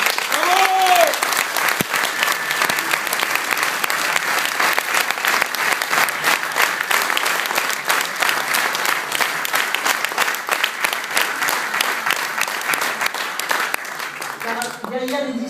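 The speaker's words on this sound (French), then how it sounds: "On applaudit" Sustained audience applause at a French political speech, dense and steady throughout, with a brief voice near the start and some rising voices near the end.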